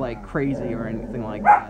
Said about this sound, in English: again, sorry for the dogs in the background